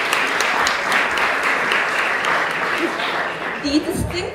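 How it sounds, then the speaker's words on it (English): An audience at a graduates' talk gives a brief round of applause, steady clapping from many hands that fades as a voice resumes near the end. "Just a little bit of applause."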